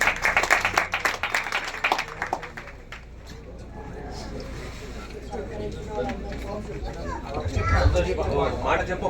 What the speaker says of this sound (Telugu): చప్పట్లు కొట్టండి.